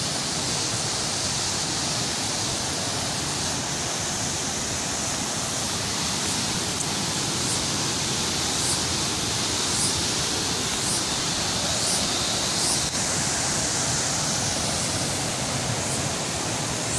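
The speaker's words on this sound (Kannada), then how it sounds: "ಇದು ಕಾನೇರಿ ನದಿ" The Kaneri river flows through dense forest between Ulavi and Dandeli, a steady, full rush of water that stays loud and unbroken throughout with no voices.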